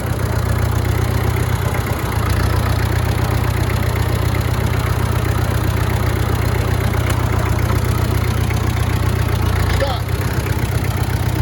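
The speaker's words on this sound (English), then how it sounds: "I love this tractor." A tractor engine idles nearby with a loud, steady low rumble and rhythmic chugging that continues throughout with barely any change.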